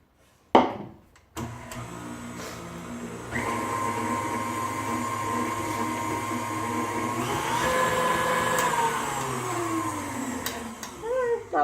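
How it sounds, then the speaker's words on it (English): An electric mixer beating eggs into cookie dough, a sharp clatter then a steady whirring motor hum that rises in pitch and strains slightly as it runs, close and loud. "We're going to be mixing them in one at a time"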